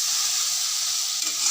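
Half-fried onions sizzle steadily in a hot pan while being stirred, a continuous close frying hiss with faint scraping, no voices.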